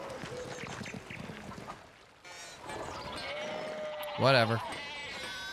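A sheep bleats loudly and close in the medieval video game Pentiment, a single wavering cry near the end, after someone speaks over quiet ambient game sound.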